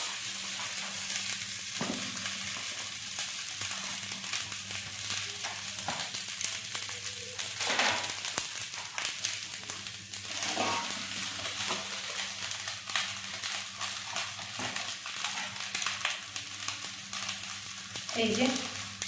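Mutton biryani with potato is reheated in a pan, giving a steady, close sizzle with scraping stir strokes and occasional clinks throughout, while someone talks over it.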